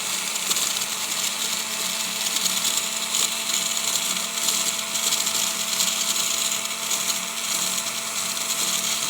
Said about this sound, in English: And we're just using our silicone wheel.